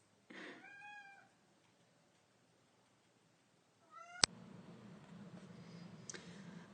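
Cats meow indoors, giving two short, faint mews several seconds apart. A sharp click and a quiet room background come after them.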